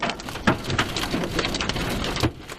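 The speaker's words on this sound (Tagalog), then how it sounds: "Bumuhos din ang malakas na ulan." Heavy rain pours down in a dense, hissing wash, with scattered louder splatters and gusty bursts throughout.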